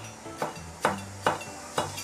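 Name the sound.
knife cutting soaked wood ear mushroom into strips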